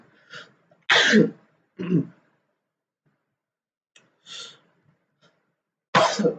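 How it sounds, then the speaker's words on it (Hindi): Several dry coughs from one nearby man with a cold during an online English class, spaced out with quiet pauses between them, loud and close. "खांसी जुकाम हो गया हल्का सा।"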